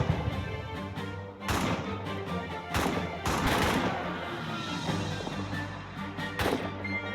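Video game gunfire in a trench battle, with loud, close shots fired at point-blank range. The shots come in irregular bursts, some heavy and booming, over a constant rumbling battlefield background.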